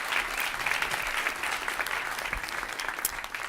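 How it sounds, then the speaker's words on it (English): A seated audience gives warm, steady applause, a continuous patter of many hands at moderate volume with no speech over it. "let's first give Göran a warm applause."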